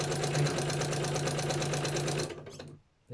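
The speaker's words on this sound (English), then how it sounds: "I'm just stitching on each element" Sewing machine stitching elements onto a gelli-printed art journal page with variegated thread, a steady rapid whirring run of needle strokes that slows and stops near the end.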